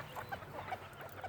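Silkie chickens in a pen give a string of soft, close clucks, several short calls scattered across the moment over a steady low background hum.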